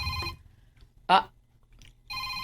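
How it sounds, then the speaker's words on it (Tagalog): A mobile phone rings with an incoming call, a loud tonal ring repeating at the start and end, with a short clack and quiet room noise in the gap between. "Oh, may nanawag ni mo, Risa."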